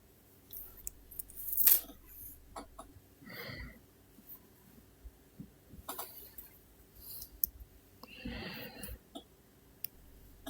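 Cutting a metal chain for a bracelet, heard as scattered close, sharp snips and small metallic clicks with quiet handling noise between them.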